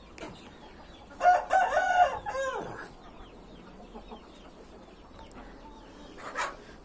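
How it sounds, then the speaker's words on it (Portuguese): A rooster crows loudly once, close by, followed by hens clucking in short bursts and quieter background calls from the backyard flock. "Aí tá o galo e as polacas."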